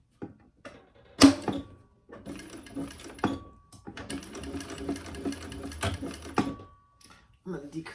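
A sewing machine stitches fabric in short bursts, its rapid mechanical whir starting and stopping several times at close range, with speech-like sounds nearby between runs.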